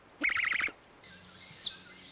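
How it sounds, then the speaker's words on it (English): Otter chirping in a children's animal show: a rapid run of bright, high chirps in a single burst, followed by a fainter, thinner chirp and a soft squeak close by. "Otters chirp"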